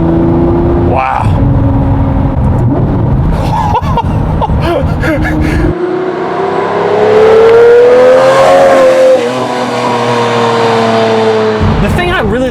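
A Lamborghini Murcielago LP640 engine revs loud and close, its pitch climbing and falling through hard acceleration and dropping back, with a person speaking briefly under the roar.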